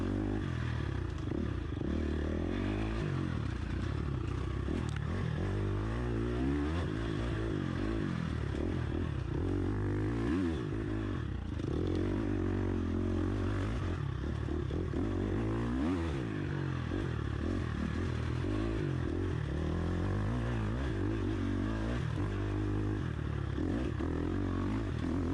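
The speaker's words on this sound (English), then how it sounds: "just wide open on my KTM 350" KTM 350 motorcycle ridden wide open on a sprint enduro race track, a steady, loud engine roar with fluctuating revs and clattering throughout, heard from the rider's position.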